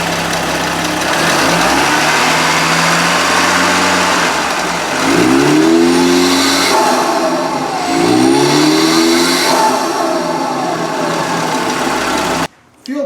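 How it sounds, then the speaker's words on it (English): A Merkur XR4Ti turbo engine revving in neutral with no load, loud and close, holding a steady drone and then rising sharply twice as the turbo spools up quickly, before a brief cutoff near the end. "When we rev it in neutral with no load on it, the turbo spools up really quick"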